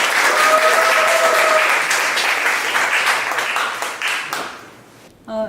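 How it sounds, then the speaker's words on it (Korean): An audience at a coworking demo day event applauds to welcome a presenter, loud sustained clapping from a crowd that gradually thins out and fades to near silence, then one brief closing burst. "큰 박수로 맞이해주시고요"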